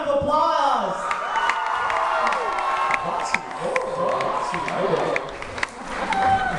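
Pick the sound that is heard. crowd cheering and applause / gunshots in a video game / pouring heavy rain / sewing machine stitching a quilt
crowd cheering and applause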